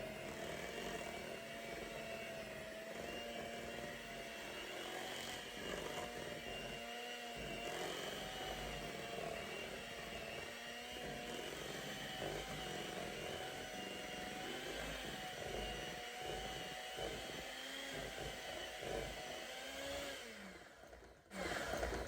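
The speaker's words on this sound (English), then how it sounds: "we will go ahead and get it whipped a little bit" A handheld electric mixer whips a foaming sugar scrub mixture, running as a steady, loud motorized whir for about twenty seconds with slight changes in pitch as the beaters move through the mix, then it cuts off abruptly.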